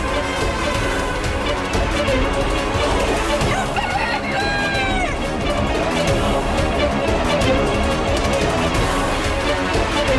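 A rooster crows once in a Hindu mythological drama about Ganesh, a clear drawn-out cock-a-doodle-doo rising over a loud, dense, continuous backdrop.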